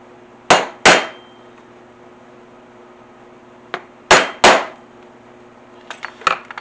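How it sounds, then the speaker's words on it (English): A hammer strikes a punch through leather for suspender rivet holes, sharp loud blows in pairs with pauses between, close and clear, followed by a few lighter taps. "I'm going to mark where I want my rivets. So I can punch my rivet holes."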